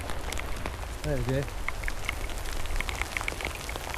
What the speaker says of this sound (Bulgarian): Вали, готино. Топъл дъжд, чакан дъжд.